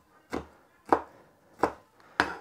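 A knife chops a chili pepper on a cutting board: four crisp, separate strokes spaced roughly half a second apart, close by and fairly quiet, with near silence between them.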